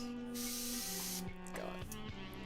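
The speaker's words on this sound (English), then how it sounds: "I'm gonna actually also get some fresh mist on my face." Face mist sprays from a pump bottle in a few quick hissing bursts close to the microphone, sharp and airy, over a quiet steady background hum.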